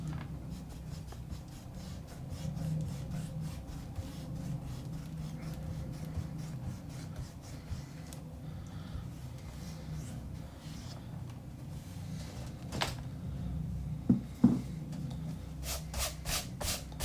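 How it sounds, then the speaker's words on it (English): An eraser rubs out pencil sketch lines of a Caterpie drawing on paper, making quiet, continuous scrubbing strokes close up, with a few sharper taps and scrapes near the end. "let's start rubbing this and seeing what we're left with"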